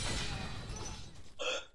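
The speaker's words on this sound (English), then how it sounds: "Oh my god, I have hiccups." A single short hiccup sounds near the end, brief and close, after a stretch of low noisy rumble at a gaming session.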